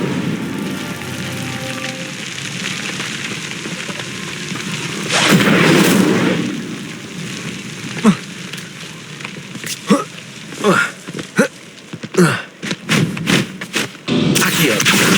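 In Hogwarts Legacy, an Incendio fire spell erupts in one loud roaring burst of flame over steady game ambience, trailed by a string of quick thuds and crackling hits.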